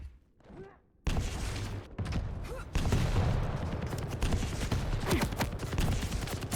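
Rocket launcher fire in an Estoty duel shooter match, a burst of sharp blasts and explosions after a brief quiet start, then sustained loud combat noise with repeated impacts under a commentator's voice.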